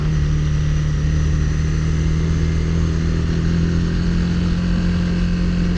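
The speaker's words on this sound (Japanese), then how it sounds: "エンジンうなっとる" A car engine drones steadily and loudly throughout while climbing a steep mountain road on Nagano's Venus Line, a constant laboring hum with a low tonal whine, close up and with no talking.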